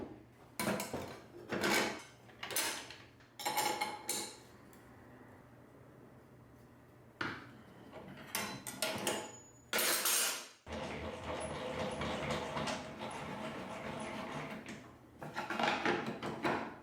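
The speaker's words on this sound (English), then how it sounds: "install your riving knife and saw blade" Metal parts clink and clatter while a riving knife and saw blade are fitted onto a DeWalt saw, with sharp knocks and rattles in bursts, then a steadier scraping, rustling stretch near the end.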